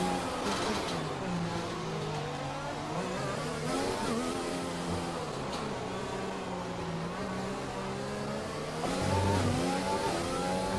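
A Formula 1 car engine in the F1 2020 racing game during qualifying at Singapore, a loud continuous high-revving whine rising and falling through gear changes as the car accelerates and overtakes, with no talking.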